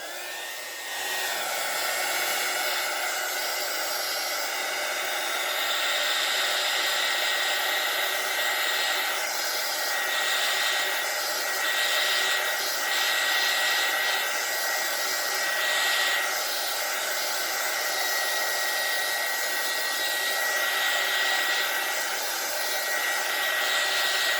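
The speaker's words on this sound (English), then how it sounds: "I'm going to take my heat gun now that I have something I like, and I'm going to dry that." Heat gun drying alcohol ink, a steady loud whooshing hiss of blown hot air that runs unbroken and close for the whole stretch.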